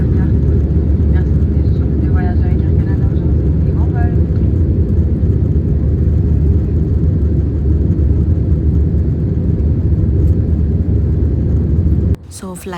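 Steady loud cabin rumble of an airliner at the start of a flight bound for Toronto, a continuous low engine roar filling the whole stretch with no speech over it, cutting off abruptly near the end.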